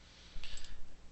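A computer mouse clicking while working in Autodesk Maya 2019, a few quick faint clicks close to the microphone in a quiet room.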